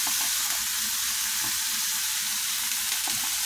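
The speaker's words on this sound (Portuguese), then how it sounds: "Vou deixar bem refogadinho" Cauliflower sautéing with garlic and onion in a pan, a steady close, loud sizzle and crackle with occasional stirring scrapes throughout, no voices.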